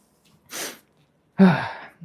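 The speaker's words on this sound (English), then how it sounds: "I feel like I need to sneeze so bad." A short sharp intake of breath, a pause, then a loud close sneeze that tails off.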